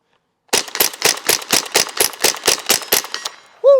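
Rapid string of about thirteen gunshots from a Ruger P90 pistol, evenly spaced and loud, one right after another, followed by a brief tonal ring as the volley stops.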